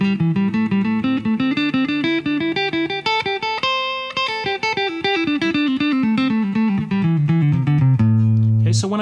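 Electric guitar runs a fast pentatonic scale pattern in triplet groupings, a dense, even stream of notes climbing and descending continuously, loud and close with a slight effects-processed tone, no talking.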